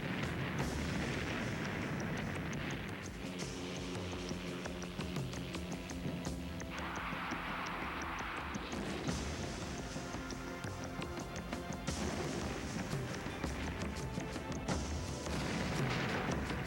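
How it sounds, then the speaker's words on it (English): Rocket barrage and grenade fire from the AH-56 Cheyenne attack helicopter against a mock convoy, a continuous loud rumble of blasts and booms, dense and sustained throughout, with a faint voice. "the gunner was able to launch a third strike against a mock convoy with a massive barrage of rockets"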